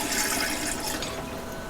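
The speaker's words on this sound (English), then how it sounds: "ideally, you're supposed to fill it up to just under that pressure relief valve" Water pours steadily into the reservoir of a Tuttnauer autoclave sterilizer, a close, continuous rushing splash with no talking.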